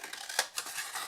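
Scissors snip through paper squares for a folded marble box, a few quick close crisp cuts with one sharper snip near the start.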